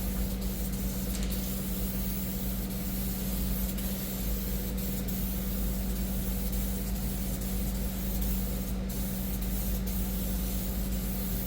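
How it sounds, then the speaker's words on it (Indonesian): Spray gun applying a thin, even first coat of Ditone Premium 9109 black paint to motorcycle body panels, a continuous close hiss of compressed air with a low steady hum beneath, no talk. "Lapis pertama kita semprot secara tipis dan merata."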